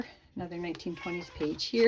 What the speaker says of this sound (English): You can hear my cat in the background there.